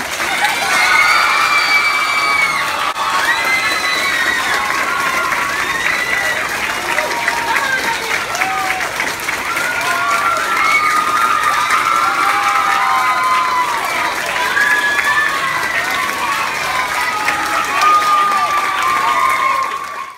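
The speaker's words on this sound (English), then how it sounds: "can I have you guys clap really loud and do a big thank you for Miss Gauthier." A big group of schoolchildren claps loudly and cheers in thanks to a teacher at a surprise award, with steady applause and excited shouting sustained throughout.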